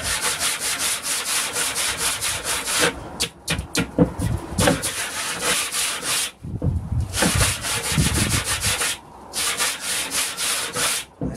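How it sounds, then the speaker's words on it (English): A wooden shelf being sanded by hand with coarse, tough sandpaper, giving steady rhythmic scratchy rubbing strokes, close and loud, with a couple of brief pauses between passes. "Use some pretty tough sandpaper."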